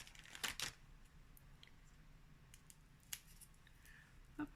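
Quiet, close snips of scissors cutting small decorative mushrooms for a Christmas decoration, a quick pair of cuts at the start followed by a few sparse clips and light handling sounds.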